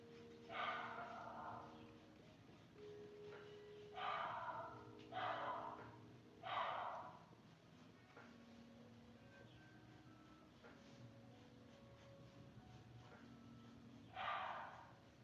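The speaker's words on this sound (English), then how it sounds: "That's the squeak you will always hear when he's excited for a walk." A dog squeaking excitedly before a walk, a series of high, whiny squeaks repeated every couple of seconds at a modest distance over a quiet indoor background.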